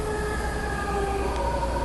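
Interior of a moving Odakyu Line train in Japan between Machida and Sagamihara, a steady rumble of wheels and motor with sustained electric whine tones.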